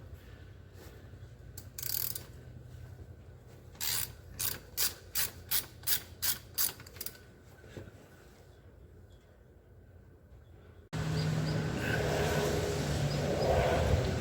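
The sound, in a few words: ratchet removing 12 mm skid plate bolts on Honda Rancher 350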